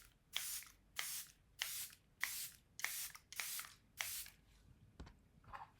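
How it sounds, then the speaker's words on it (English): Makeup setting spray misted from a pump bottle onto the face in about eight crisp, evenly spaced bursts close by, followed by a faint tap and a softer puff at the end, with no talking. "The next thing I'm going to go in is with my setting spray"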